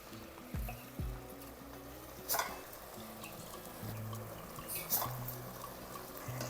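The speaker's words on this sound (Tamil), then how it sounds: "இப்போ இந்த அரிசியை எடுத்து இதில் சேர்த்துடலாம்" Soaked, drained ponni raw rice goes into a pan for tomato rice, making faint scraping and rattling with two brief louder clatters over a low kitchen hum.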